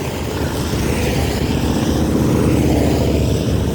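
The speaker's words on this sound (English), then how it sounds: "A bunch of bikes coming by." A group of motorcycles passing on Iron Mountain Road during the Sturgis Motorcycle Rally, a loud continuous low engine roar swelling slightly as the bikes go by.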